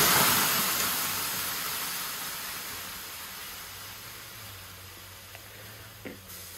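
Water poured on hot stones of a wood-fired sauna stove hisses in a steady, broad spray of sound that slowly fades, with a low hum and a couple of small knocks near the end.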